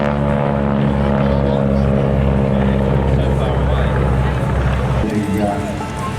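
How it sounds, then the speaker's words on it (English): A Harvard trainer aircraft's round radial engine drones loud and steady at an airshow, a deep throbbing hum with strong harmonics that shifts in pitch near the end as the plane rolls. "Let's see if we can hear the noise of the round engine"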